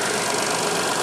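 A 1997 Geo Metro's Suzuki 1.0-liter engine idles steadily nearby on a cold start at about 850 RPM, giving a continuous rumble with a quick, even ticking pulse underneath.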